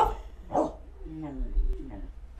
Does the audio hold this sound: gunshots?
no